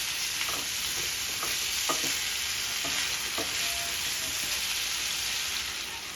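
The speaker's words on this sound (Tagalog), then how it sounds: "Haluin ko lang." Squash and shrimp simmering in coconut milk in a pan are stirred, a steady bubbling sizzle with soft scraping and clacking of a utensil throughout, close and even.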